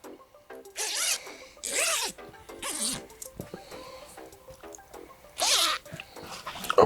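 The zipper of a carp fishing weigh sling is pulled open in several quick, close, rasping bursts, separated by brief pauses and faint handling sounds.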